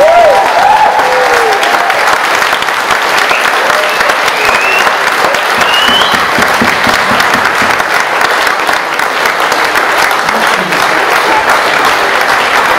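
A full audience at a primary school gives long, loud, dense applause for the children after their mystery musical, steady clapping filling the hall throughout with no pauses.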